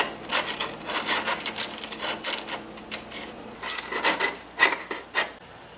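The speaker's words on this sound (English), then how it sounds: "I'm just going to take a little sharp chisel here and see if I could just slowly remove this" A sharp chisel scraping paint off rusty kitchen stove trim, a series of short, close, gritty scrapes in an irregular rhythm with brief pauses between strokes.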